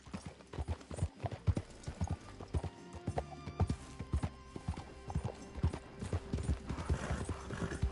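Horse hooves clip-clop at a steady gallop in Red Dead Redemption 2, a rapid, loud rhythmic pounding close by with occasional whinnies and no talk.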